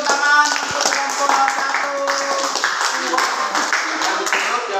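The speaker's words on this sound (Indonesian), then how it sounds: "kasih tepuk tangan untuk kelompok" Audience in a classroom-style presentation session claps for a presenting group, a run of close, distinct hand claps over a tonal background with voices.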